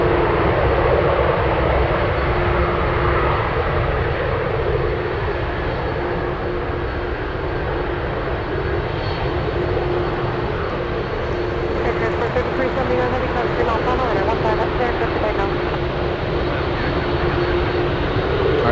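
A UPS cargo airplane taking off at Anchorage airport, its engines making a loud, sustained roar that stays strong across the whole stretch, with a voice speaking over it.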